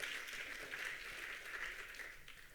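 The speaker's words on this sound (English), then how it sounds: "Vous n'avez ici que des amis qui vont vous applaudir une nouvelle fois." Conference audience applauding a speaker at an international colloquium on age-friendly cities, a steady wash of many hands clapping that holds evenly from start to finish without breaks or voices.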